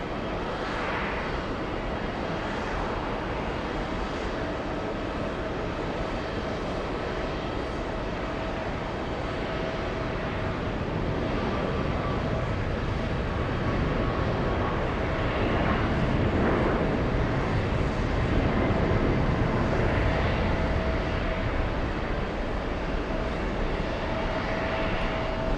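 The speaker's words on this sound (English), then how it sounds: "We have one rolling for takeoff. That's the one headed to Georgetown" A heavy jet bound for Georgetown, Guyana rolls for takeoff, a sustained engine roar that builds gradually and swells louder toward the end, broad and rumbling with no voices.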